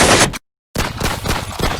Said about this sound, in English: a sound of a gun started coming out from nowhere.